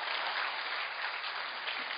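An audience at a company presentation claps together in a dense, steady burst of applause, heard from a distance with no voice over it.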